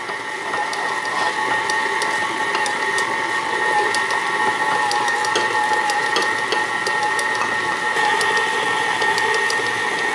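An electric stand mixer beating carrot cake batter with eggs, crushed pineapple and coconut oil, a steady whirring, clicking mechanical drone held close and constant throughout, with no talk.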